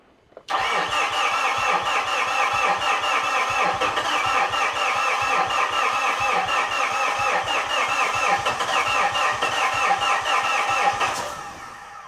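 A Fuso FG truck engine with new injectors cranks continuously for about ten seconds, a loud rapid rhythmic starter churn with mechanical knocking, close up and alone, before cutting off.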